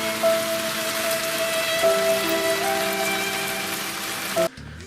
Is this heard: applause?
no